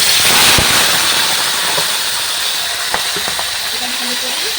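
Marinated chicken drops into hot oil in a wok and sizzles loudly in a steady hiss dotted with sharp crackles and pops, close up. A faint voice is heard underneath.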